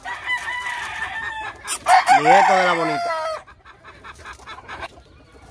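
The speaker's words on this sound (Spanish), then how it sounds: "este gallo luce bien, un gallo de buen tamaño" A good-sized gamecock crows once loudly and clucks nearby, with someone speaking Spanish before the crow.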